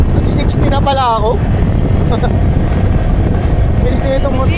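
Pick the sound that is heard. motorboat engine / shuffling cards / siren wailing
motorboat engine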